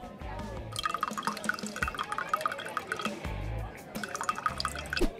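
Hot tea is poured into glasses at a modest birthday gathering, giving bursts of splashing, trickling liquid with clinks of glass, in several separate pours close by.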